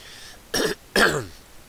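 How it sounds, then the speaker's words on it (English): Two short, harsh coughs close to the listener, one right after the other, with a rasping throat-clearing quality. "So if I start coughing, it'll just come."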